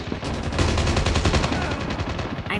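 Minigun fire in the mobile shooter Call of Duty Mobile, a loud, close, rapid unbroken stream of shots rattling for a couple of seconds.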